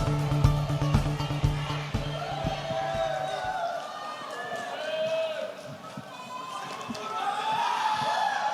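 Crowd applause welcoming a candidate's speech at a Korean political party convention, with dense clapping and cheering filling the hall, voices and music mixed in beneath.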